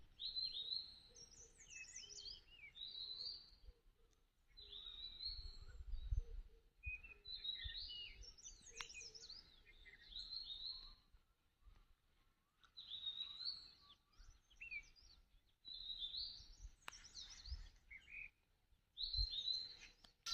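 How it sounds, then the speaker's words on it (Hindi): Birds chirp and sing in repeated bright, high bursts with short gaps between phrases, fairly faint against a quiet outdoor background. "जो पक्षियों के चहचहाने की आवाज़ है उसको आपको सुना देते हैं"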